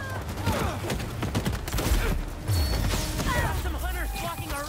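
Gunfire rattles in the Spider-Man 2 video game, with rapid bursts, crashes and mechanical clatter amid game effects and a voice talking over it.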